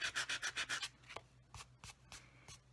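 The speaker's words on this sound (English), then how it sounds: "Using the sanding block, and there you have it" A handmade Mother's Day card rubbed with a sanding block to remove an ink smudge: a quick burst of about seven brisk, close scratchy strokes, then a few softer, spaced rubs.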